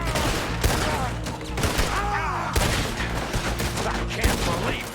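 Heavy gunfire rattles through a shootout in the video game Red Dead Redemption 2, with loud repeated shots, booming impacts and a dense, noisy game soundtrack throughout.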